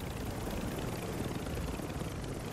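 Helicopter in the video game Warzone, a dense, steady rotor and engine roar that fills the whole short stretch at an even, close level.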